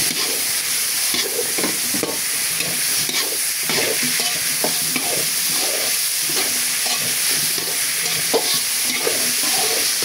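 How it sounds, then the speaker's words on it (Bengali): Cauliflower, potato and other vegetables fry in a pot for vegetable khichuri. A constant loud sizzle runs throughout, broken by repeated scraping and clattering as the pieces are stirred. Nobody speaks. "দিয়ে দিলাম ফুলকপি। যেগুলো শক্ত শক্ত একটু সিদ্ধ দিই, তো এগুলো আগে দিয়ে দিই, ভাজা ভাজা করে নিই।"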